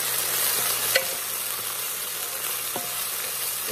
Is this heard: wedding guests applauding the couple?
no